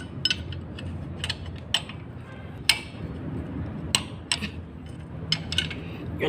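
A bolt being tightened during a motorcycle oil change: a ratchet or wrench clicks in short bursts, spaced roughly a second apart, close up over a steady background hum.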